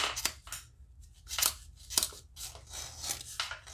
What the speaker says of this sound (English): Suppose I can hit this with a razor blade. I'm just going to scrape it